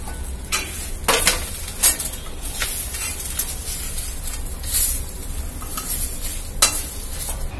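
Neem leaves sautéing in a pan, with a steady soft sizzle and repeated stirring scrapes and clinks of a utensil against the metal, close and alone with no talk.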